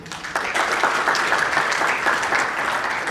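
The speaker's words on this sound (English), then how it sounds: "can we give a hand, a clap to Zol" A roundtable audience breaks into brief applause, a short burst of steady clapping that starts abruptly and holds evenly for about three seconds.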